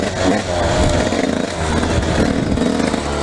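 A beginner's dirt bike engine rumbles steadily and close up, revving with a clattering, uneven drone as the rider clutches in and shifts up a gear before giving it gas.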